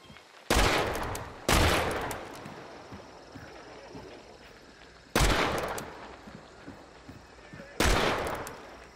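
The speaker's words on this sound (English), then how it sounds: "Missing a lot of easy shots here." Gunshots in the shooter game Hunt: Showdown: four loud, sharp reports spaced a few seconds apart, each trailing off into a long echoing tail, with faint clatter and footsteps between them.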